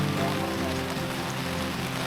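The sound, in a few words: rain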